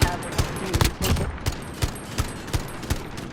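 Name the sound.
gunshots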